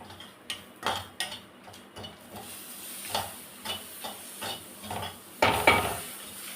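Chili powder and capsicum pieces frying in a pan for paneer lababdar, heard as a soft hiss with irregular spoon scrapes and clinks against the pan, plus one louder clatter near the end; no talking.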